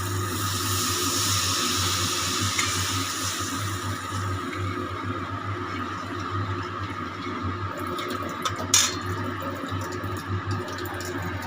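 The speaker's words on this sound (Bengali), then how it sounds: "এবার আমি দিয়ে দেবো এর মধ্যে পরিমাণ মতো জল।" Water poured into a pan of egg curry masala gives a steady, fairly loud rushing and splashing flow that runs the whole time over a low kitchen hum, with a brief clatter near the end.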